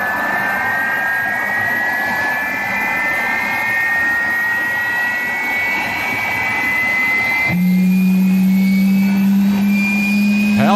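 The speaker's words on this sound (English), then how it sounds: "All right, we have engine number 3 starting and stabilizing." Engine number 3 of an MD-11 airliner spools up in the X-Plane 12 flight simulator, a slowly rising turbine whine over a constant roar, then a loud low hum cuts in as the engine catches and stabilizes.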